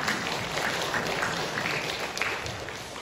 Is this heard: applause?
yes